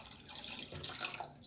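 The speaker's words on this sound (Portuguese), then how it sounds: "E aí, você vai adicionar a tua água lá." Water is poured into a container to root a guava cutting, a faint, soft trickle and splash with a light bubbling that swells slightly toward the end, heard alone without talk.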